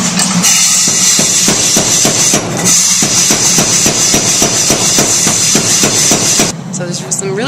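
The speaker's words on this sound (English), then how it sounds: "I'll go over to this forging hammer, and you'll get to see the process of this" A power forging hammer pounds a steel picket blank in a rhythmic run of fast, loud, metallic blows, about a dozen strikes in quick succession before stopping near the end, with workshop noise beneath.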